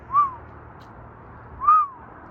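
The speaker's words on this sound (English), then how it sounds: "but there's an owl" An owl perched on a fence gives two soft, clear hoots about one and a half seconds apart, heard against a quiet outdoor hush.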